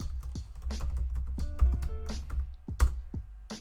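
A password is typed on a computer keyboard during an SSH login on Linux CentOS 8, a close series of irregular sharp key clicks and taps spread over a few seconds.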